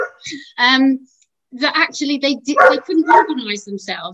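A dog barks in short bursts behind a person speaking, the yips and woofs mixed into and between the talking at close range.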